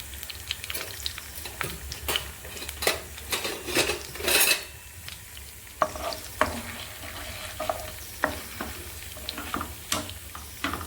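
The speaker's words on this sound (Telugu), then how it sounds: "పైనంతా ఆయిల్ వేసేసుకొని ఎండుమిర్చి పోపు దినుసులన్నీ వేసేసుకున్నానండి ఇప్పుడు ఇందులో ఉల్లిపాయ కరివేపాకు పచ్చిమిర్చి ఇవన్నీ వేసేసుకున్నాను" Onions, green chillies and curry leaves frying in hot oil for a potato curry tempering, a steady sizzle broken by frequent scraping and clinking of a metal spatula against the pan; no one talks.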